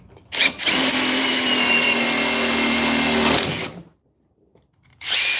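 A cordless impact driver, one of the DeWalt, Milwaukee or Metabo models, runs under load in one sustained, loud, buzzing burst of about three seconds, then stops, and a short burst follows after a pause.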